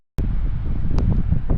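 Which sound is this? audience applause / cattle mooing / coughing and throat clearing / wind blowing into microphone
wind blowing into microphone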